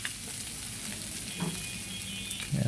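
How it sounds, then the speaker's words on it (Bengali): Small fish frying in a pan with tomato, a soft continuous sizzle with a few faint stirring touches. "বন্ধুরা, আমরা মাছ ভেজে ফেলছি, প্রায় মাছ ভাজা হয়ে গেছে।"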